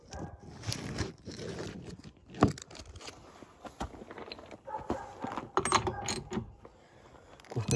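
A ratchet loosens a part on a Peugeot 106 XSi, giving irregular clicking bursts and metallic knocks of tools close by, with no talk over it.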